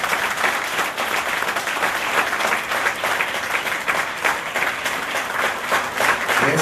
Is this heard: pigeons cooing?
no